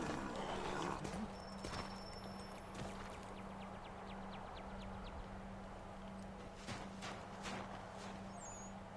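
Horses' hooves clip-clop at a trot over snowy ground in the Assassin's Creed 3 video game, a steady rhythmic patter at moderate distance that continues for the whole stretch.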